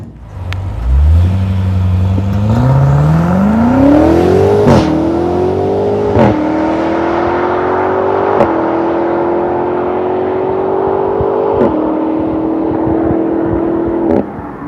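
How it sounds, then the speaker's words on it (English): A 2020 BMW F90 M5 Competition sports sedan with a 617 hp engine revs up hard through rising gear pulls, loud and close, shifting up several times as it accelerates. "The way it accelerates is effortless."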